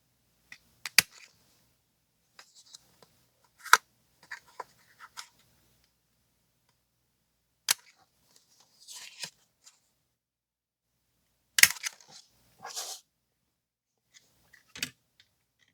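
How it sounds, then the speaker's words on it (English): A small circle punch bites through the marked corners of a 12 x 12 paper sheet, giving a handful of crisp, separate snaps and clicks spaced irregularly across a quiet background, with no talking. "Grab the small circle punch and punch those corners that we marked."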